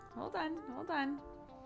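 A pet cat named Clarky gives two short, rising-and-falling meows close by during a quiet indoor moment.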